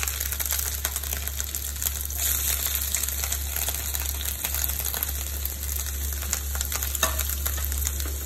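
Bitter gourd pieces dropped into hot oil in a pan, a loud, dense, continuous frying sizzle with steady crackle and a low hum beneath, close and unbroken, with no talking.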